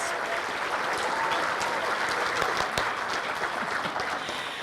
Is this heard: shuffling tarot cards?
no